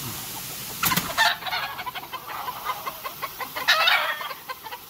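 Sweater breed gamefowl roosters cluck in short, loud bursts on a gamefarm, the calls overlapping at close range with no voices.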